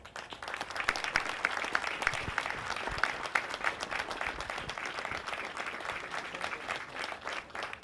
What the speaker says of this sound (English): Let's have another round of applause for all the honorees today.